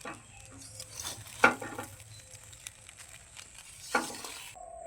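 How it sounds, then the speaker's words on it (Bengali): Flattened rice mixed with salt and sugar in a pan, heard as a faint, soft scraping stir with a couple of sharp utensil clinks against the pan, quiet and close. "চিড়ের সঙ্গে ভালো করে মিশিয়ে নেব।"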